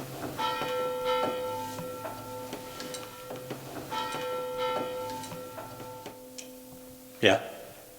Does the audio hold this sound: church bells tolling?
yes